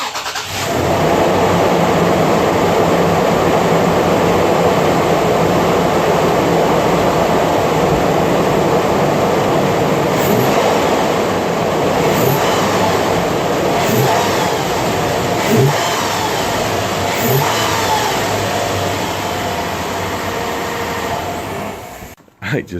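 A 2018 Toyota 4Runner with a stage 1 modification runs steadily for about twenty seconds, its engine a loud, continuous close-up drone with a few faint revs rising through it before it cuts off.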